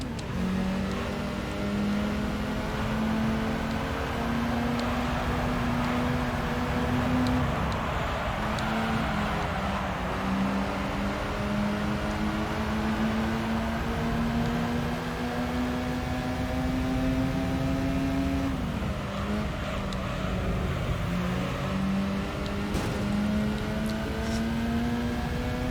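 Racing cars in Gran Turismo 3, including an RX-7, with engines droning loudly and continuously, pitch climbing through gears and dropping at shifts, a constant close engine roar throughout.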